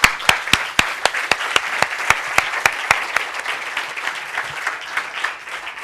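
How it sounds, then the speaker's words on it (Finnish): Audience at a Finnish customer experience event applauds award recipients, a room of clapping with one loud, close pair of hands beating a steady rhythm through the first half before the crowd carries on alone. "Annetaan isot aplodit."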